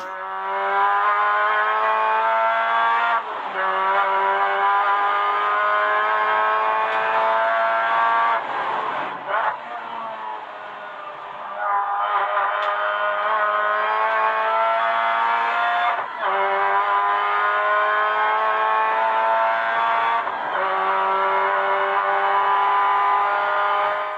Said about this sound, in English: It's a bit of a shame that I have to make the exhaust quieter. Sounds pretty good.